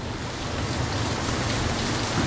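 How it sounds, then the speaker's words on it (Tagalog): Heavy rain pours down during a motorcycle ride on an NMAX V2 scooter near Baguio, a dense, steady roar of water and wind that fills the clip without a break and with no voices. "Napakalakas ng ulan."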